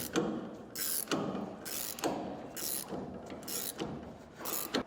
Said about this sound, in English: we'll come back with a 5/8 socket and wrench, and we'll tighten all 4 of them